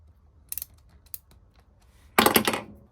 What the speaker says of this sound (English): next I'm going to loosen this bolt